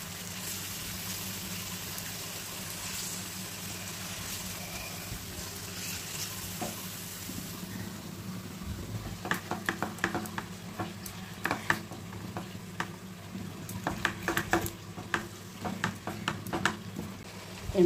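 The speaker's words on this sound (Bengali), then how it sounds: "আর একটু ভাজা ভাজা হবে এটা।" Chicken for chicken chaap fries in a kadai with a faint, steady sizzle, joined later by scattered clicks and scraping taps from stirring, quiet and close with no talking.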